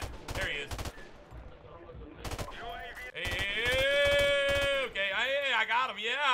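Bursts of rapid gunfire from a Call of Duty match, sharp repeated cracks that come and go under overlapping talk and game sounds.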